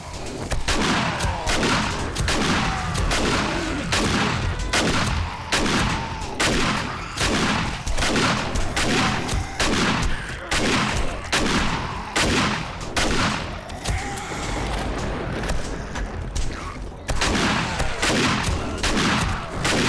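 A shotgun fired again and again at zombies in the survival game 7 Days to Die, with loud, evenly spaced blasts roughly every second for the whole stretch over constant game noise.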